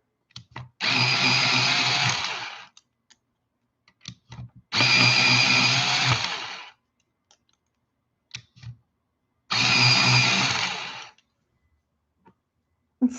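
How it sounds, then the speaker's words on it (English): An electric pencil sharpener grinds a colored pencil in three loud bursts of about two seconds each, separated by quiet gaps with small clicks and handling noises. "I have to sharpen, so if you have headphones on, you might want to mute"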